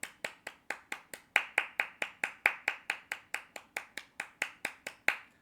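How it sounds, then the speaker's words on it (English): Hands clap in a steady, even rhythm, about twenty sharp claps in quick succession, close and fairly quiet with no talking. "Clap it up for Balogun, right?"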